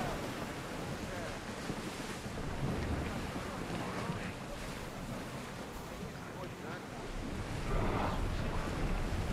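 A sailing ship moves across the sea in the video game Assassin's Creed Odyssey, with steady waves and surf washing under a constant rush of wind.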